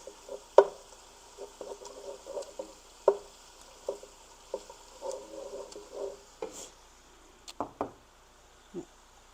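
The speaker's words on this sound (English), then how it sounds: "Stir that really good." Spoon stirring tomato paste into a pot of tender okra stew: soft irregular knocks and scrapes against the pot over a faint, low simmering sizzle, close up.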